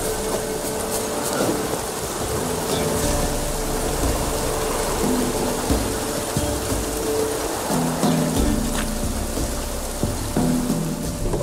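Rain falls steadily in The Witcher 3 game world, a continuous broadband hiss of rain on surfaces with faint low rumbles beneath, constant and even throughout with no talk.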